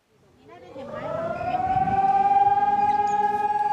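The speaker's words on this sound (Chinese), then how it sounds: "警报声响起" A civil defense air raid siren sounds during a Taiwanese urban resilience drill linked to the Han Kuang exercise. It winds up from faint to a loud, steady wail that holds on its own with a slight pulsing.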